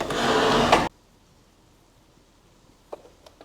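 A sewing machine set to its longest stitch length, with the needle shifted right, stitches fabric for a dress in one loud, steady burst under a second long, then stops, leaving near silence broken by a few faint clicks.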